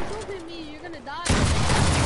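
Sudden loud volley of gunshots in a video game shooting match, cutting in after a stretch of quieter game sound with melodic tones and continuing steadily to the end.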